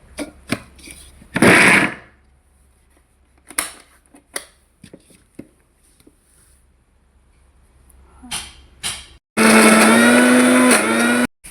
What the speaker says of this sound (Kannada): ಸಾಕು, ಇಷ್ಟು ಮಿಕ್ಸಿ ಮಾಡ್ಕೊಳ್ಳೋಣ